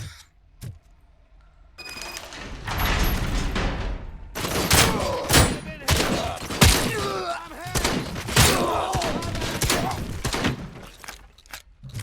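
Shotgun blasts in the Robocop Rogue City video game come as repeated sharp, loud bangs at irregular intervals, mixed with thuds, clinks and game effects over a busy background.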